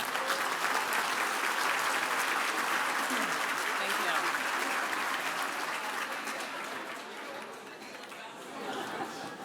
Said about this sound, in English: please, with a big round of applause